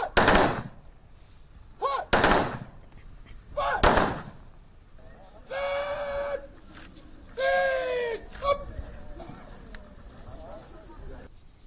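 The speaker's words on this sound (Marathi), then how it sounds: "लष्कराच्या तसंच पोलीस दलाच्या जवानांच्या तुकडीनं बंदुकीच्या 3 फैरी हवेत झाडून" A police and army honour guard fires a ceremonial salute into the air at a martyr's funeral, with three sharp volleys spaced about two seconds apart, followed by a bugle playing, all heard in a news report.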